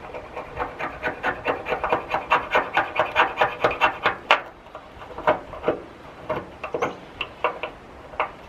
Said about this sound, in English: I took my knife and I cut this down and shaved it and got all those little fine shavings